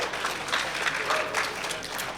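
At a summit session, an audience claps in a steady, moderately loud round of applause, dense overlapping hand claps continuing evenly for a couple of seconds.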